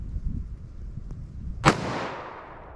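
A single .44 Magnum revolver shot with hard-cast Underwood ammunition, fired single action over a chronograph at a range: one sharp, loud crack followed by a long rolling echo, preceded by faint low rumble.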